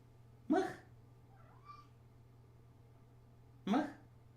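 A cat gives two distinct meows about three seconds apart, close and clear over a low steady hum, with a faint short chirp-like sound between them.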